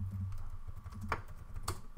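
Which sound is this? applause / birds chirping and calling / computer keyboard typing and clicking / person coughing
computer keyboard typing and clicking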